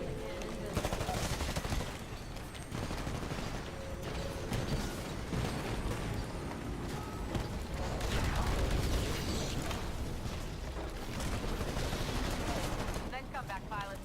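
Gunfire in Titanfall runs as near-continuous weapon fire and mechanical clatter amid dense battle noise, with radio chatter and voices talking over it.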